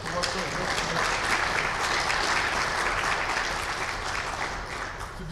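A roomful of students and families applaud at a school national signing day in Omaha, the clapping steady and dense for several seconds with a faint murmur of voices beneath it.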